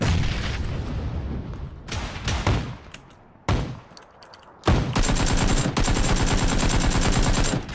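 Gunfire in the PUBG battle royale video game, loud bursts of rapid automatic fire broken by short pauses, ending in a long sustained volley with clinking shell casings, and no talk.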